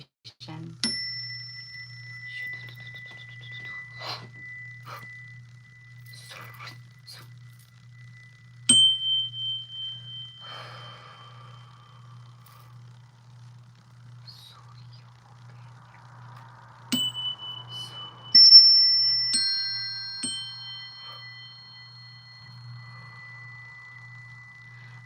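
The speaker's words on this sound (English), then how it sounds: "We'll see if she likes the chimes." Chimes struck a few at a time during an energy-healing session, each bright metallic tone ringing out and slowly fading, with a steady low hum underneath throughout.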